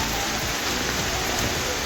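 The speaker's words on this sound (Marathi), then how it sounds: "पाऊस तुम्ही बघू शकता फार वाढलेला आहे" Heavy monsoon rain pours steadily and densely on a hill-fort trek, a loud unbroken wash of rainfall close around the listener with no pauses.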